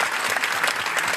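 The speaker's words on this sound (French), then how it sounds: "On l'applaudit également pour ce prix." An audience at a mayor's New Year speech in Saint-Brice-sous-Forêt claps for an award, a brief, dense burst of steady applause from a crowd filling the room.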